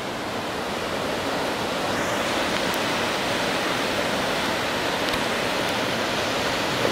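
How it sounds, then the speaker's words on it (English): A cascading waterfall near Johnsondale Bridge in Sequoia pours out a dense, unbroken rushing hiss, steady and fairly loud, with no voices. "Here's that beautiful cascade."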